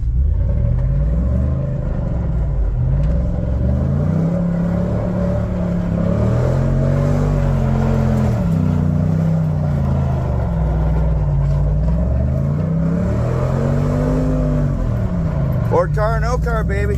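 A Ford truck engine revs repeatedly in loud, close, rising and falling surges over a steady rumble, without speech.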